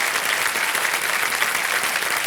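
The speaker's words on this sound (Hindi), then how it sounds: "तालियां बज जाए एक बार जोरदार इनके लिए।" Loud, steady studio audience applause on a game-show set fills the stretch without a break, dense and even throughout with no voices over it.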